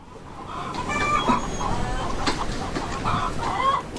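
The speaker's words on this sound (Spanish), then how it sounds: "Ahora crío a mis gallinas y patos aquí dentro." Hens and ducks kept in a coop on an Irish guesthouse property on the Irish Riviera, with steady clucking and occasional crowing-like calls, close and continuous, over a low rustling background.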